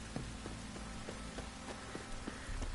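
Rain falls in a quiet, soft patter in The Witcher, with occasional light taps spaced through the short stretch and no voices.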